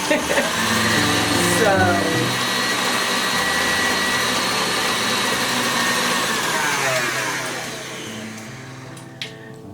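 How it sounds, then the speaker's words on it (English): An electric mixer whirs through coffee cake batter with eggs, a loud, close motor hum whose pitch shifts as the speed changes, easing off and fading near the end. "turn your mixer down if you're using a mixer so that your egg doesn't fly out"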